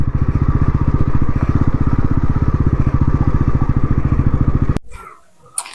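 A motorcycle engine idles loud and close in a steady, rapid, throbbing pulse for several seconds, then cuts off abruptly and leaves near silence.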